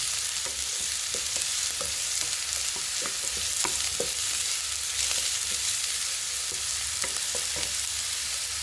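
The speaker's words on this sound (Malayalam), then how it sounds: "അതോടുകൂടി നമ്മൾ ക്യാരറ്റും ഇട്ട് നന്നായി ഇളക്കിക്കൊണ്ടിരിക്കുകയാണ്." Potato and carrot pieces stirred in a frying pan, a continuous soft sizzle under repeated scraping and clicking strokes of a spoon against the pan, steady and close.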